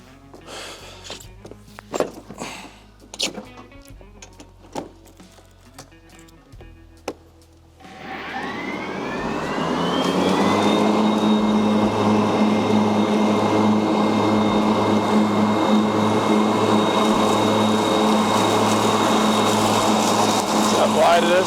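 Ryobi all-electric zero-turn mower cutting real grass, starting up from a quiet stretch of clicks and thumps into a steady, fairly quiet whirring hum of its electric drive and blades that holds evenly to the end.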